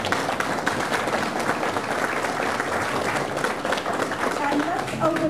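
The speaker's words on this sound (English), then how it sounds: "So a big round of applause for Leslie." An audience at a community talk gives a presenter a round of applause, dense steady clapping throughout with a few voices mixed in.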